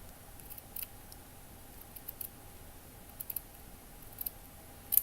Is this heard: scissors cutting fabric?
yes